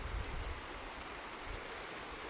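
Hiker wading straight through a river while walking Kinder Scout in the Peak District, with continuous rushing, splashing water close by and a few heavier low sloshes near the start, no voices.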